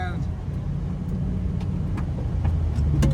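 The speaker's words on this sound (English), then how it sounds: "We're gonna ride up here to the Traco and get a look" Truck engine rumbling steadily at close range while riding across a dirt development site, a low continuous drone with occasional knocks and rattles from the cab.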